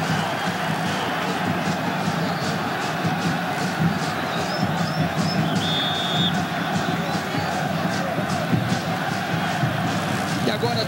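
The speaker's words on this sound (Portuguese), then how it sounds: "Agora a torcida que tanto aplaudiu grita frangueiro" Stadium crowd at a 1998 Brazilian league football match between Vasco and Santos, chanting and jeering at goalkeeper Emerson Leão, a dense, continuous roar of many voices filling the whole stretch at steady loudness.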